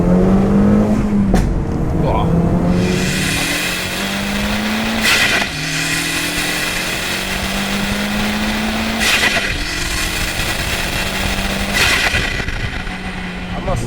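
A 1.8T Seat Leon Cupra R with a stage 2 Sachs organic clutch drives along, its engine droning loud and close and rising through the gears, with cabin rumble and short shifts between pulls.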